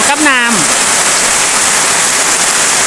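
The year's first rain pouring down outdoors, a loud, dense, steady hiss of drops hitting surfaces, with a brief voice near the start.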